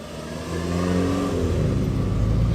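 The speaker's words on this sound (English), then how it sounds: "An immaculate 1967 Triumph Herald 1200." A 1967 Triumph Herald 1200 classic car at an outdoor classic car show revs up, its engine note rising and swelling to a steady, fairly loud roar.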